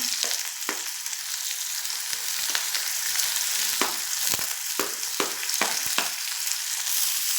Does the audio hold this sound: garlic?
yes